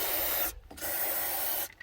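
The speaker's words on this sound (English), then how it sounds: "Spray them with some penetrating oil" Short hissing bursts of penetrating oil sprayed from an aerosol can onto the spark plugs of a 1976 Jaguar XJ6 Series 2, two close spurts separated by brief pauses, heard alone and fairly quiet.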